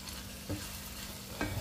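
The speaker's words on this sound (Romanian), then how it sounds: "Îl prăjim cam un minut." A flour roux frying in a pan as a sauce for Hungarian bean soup with smoked sausages, a soft steady sizzle broken by two brief scrapes of stirring.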